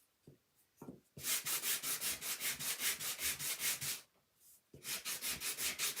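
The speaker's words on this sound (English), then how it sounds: "then I'll sand it down" Hand sanding on a wooden Santa's train set, close rhythmic rasping strokes in two runs separated by a short pause, with a few light knocks before the first run and no talking.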